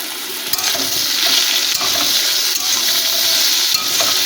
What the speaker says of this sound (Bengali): দিয়ে তাকে ভালো করে কষিয়ে নেবো